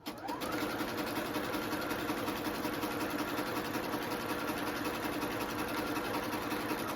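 A sewing machine runs continuously, stitching with a fast, even mechanical whir and rapid needle rhythm, close and steady throughout.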